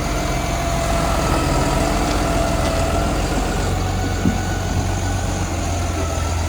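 A van engine idling near a farm workshop, a loud continuous low rumble with a steady hum and little change in pitch, no voices.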